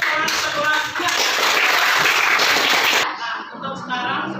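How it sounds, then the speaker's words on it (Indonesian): Students in an Indonesian primary classroom applaud a classmate, a brisk round of clapping for about three seconds that fades into shuffling and voices. "tepuk tangan untuk orang setelahnya"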